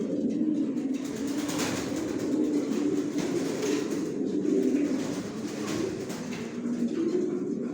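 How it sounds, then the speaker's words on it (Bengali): Pigeons coo continuously inside a new bedding loft, several birds overlapping in soft low rolling calls with a steady background murmur and no speech. "আমার লফটের সব কবুতর বর্তমানে সুস্থ সবল ভালো আছে"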